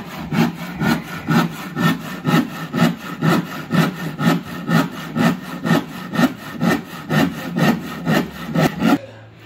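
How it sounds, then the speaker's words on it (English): Hand saw cutting through plywood at a beach house build site, with steady rhythmic back-and-forth strokes, about two per second, close and fairly loud, with no talking. "So he's cutting that plywood."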